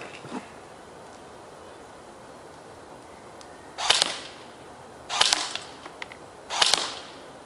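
A King Arms M4A1 airsoft rifle fires three separate semi-auto shots, each a sharp, close crack with a short tail, spaced over several seconds against quiet background hiss.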